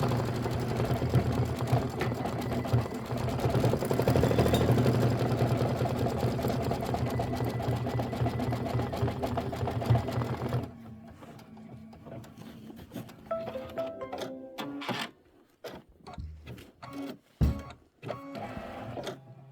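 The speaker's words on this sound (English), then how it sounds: "We're going to stitch the umbrella section 1 placement line, and then we're going to lay down the pink fabric first." A sewing machine stitches a placement line on a quilt block in a steady, fast mechanical whir for about ten seconds, then stops, leaving scattered handling clicks and taps up close.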